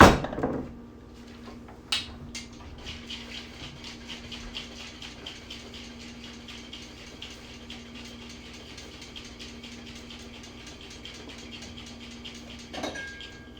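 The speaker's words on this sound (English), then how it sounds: "do our second shake to complete the reverse dry shake." A cocktail shaker is shaken steadily for a reverse dry shake of a New York sour, producing a continuous rattling patter for about twelve seconds after a brief knock, ending with another clunk.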